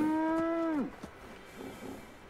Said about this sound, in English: Oh, there's a Brahmin following me.